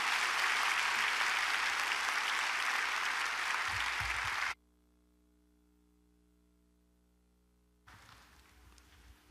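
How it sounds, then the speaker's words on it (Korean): A church congregation claps for the pastor, a loud, dense wash of applause lasting about four seconds that stops abruptly, followed by a quiet stretch and then faint room noise. "우리 목사님 나오실 때 박수로 하나님께 영광 돌리시고"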